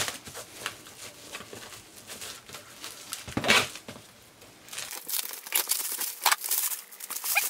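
Parcel packaging posted from Poland is torn and peeled open, giving close crinkling and crackling of plastic and paper in uneven bursts, with one sharp rip partway through.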